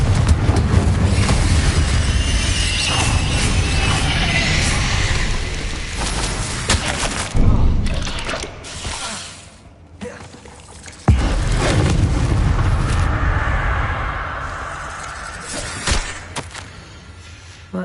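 Confringo blasting spell explosions in Hogwarts Legacy, a series of loud, booming blasts with crackling debris over a continuous rumbling backdrop, with sharp hits near 7, 11 and 16 seconds.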